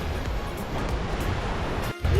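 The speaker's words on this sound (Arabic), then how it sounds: "سامع اصوات البحر والشلال" Steady roar of sea surf and falling water at the Düden waterfall in Antalya, a continuous broadband wash close to the microphone with slight wind buffeting and no voices.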